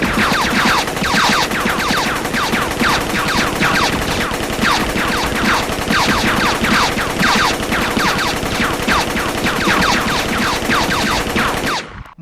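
Sustained heavy gunfire in an action film rattles continuously for several seconds, dense rapid bursts, loud and close, ending abruptly.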